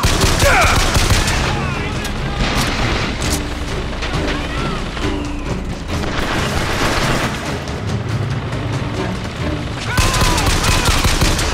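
An automated turret fires in a video game amid a dense, loud barrage of rapid gunfire, booms and explosions that runs without a break, with a voice talking over the din.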